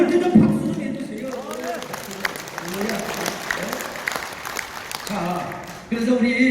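A Korean church congregation claps at the pastor's request during a sermon, a moderate burst of applause mixed with talking voices, rising and thinning before the speaking resumes.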